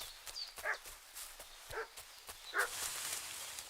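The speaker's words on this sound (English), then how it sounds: "What's that dog making such a fuss about?" A dog barks several times in the medieval village world of Kingdom Come: Deliverance 2, a few separate, moderately distant woofs over a soft ambient bed.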